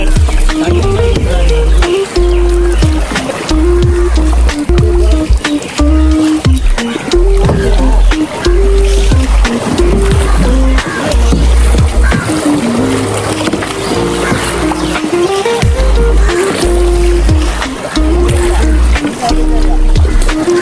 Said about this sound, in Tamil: தெரிக்குது தண்ணி.